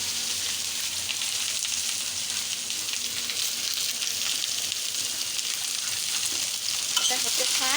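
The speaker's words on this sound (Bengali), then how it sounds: "করলা আলু ভাজি করব" Bitter gourd and potato fry in oil with green chili and onion, a loud, steady sizzle and crackle running unbroken from start to finish with no voices.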